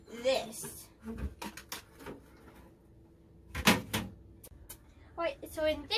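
An RV kitchen drawer slides open with a short wooden clatter, surrounded by close speech before and after, with a couple of brief knocks and rattles of utensils nearby.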